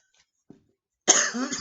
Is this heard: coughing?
yes